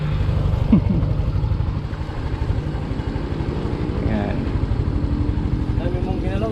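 Yamaha Mio fuel-injected scooter engine running after a spark plug fix, idling steadily and close with a rapid even pulse throughout, a voice speaking over it.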